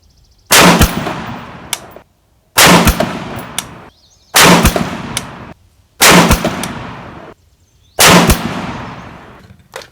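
Five sharp, loud rifle reports from an RRA 20-inch Varmint fired at a 100-yard range, evenly spaced about two seconds apart, each crack followed by a decaying echo into near silence.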